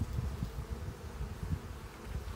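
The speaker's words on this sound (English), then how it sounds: "A little young nurse bee." Honey bees at an open hive being inspected in spring before splitting, a dense steady buzz with slight pulsing swells, close and continuous with no speech over it.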